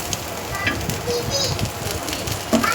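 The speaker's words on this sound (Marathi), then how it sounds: "ब्राउन होईपर्यंत आपल्याला मिक्स करत राहायचं आहे।" Masala corn is stir-fried until brown, giving a steady close sizzle and crackle with light scraping of stirring, under a faint voice.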